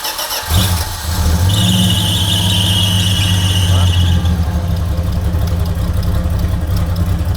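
A turbo six-cylinder car engine with a new carburetor cranks briefly, then catches and settles into a loud, rough idle with a high whine running through it, with voices in the background.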